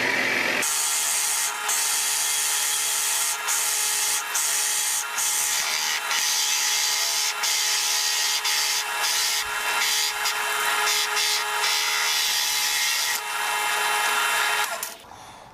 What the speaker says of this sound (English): I should point out this is a 1 1/4-inch hole that I'm drilling.